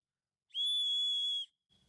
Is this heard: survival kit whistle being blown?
yes